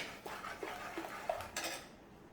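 A spoon scrapes and clinks against a metal pot in a few short strokes while mashing cooked dal, close by, with no talking.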